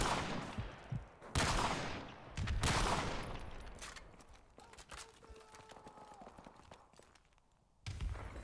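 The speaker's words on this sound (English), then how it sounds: "Ooh, nice shot, Phoenix." Video game gunfire in Duty Calls: several loud bursts of shots in the first few seconds, then quieter scattered sounds, and another burst near the end.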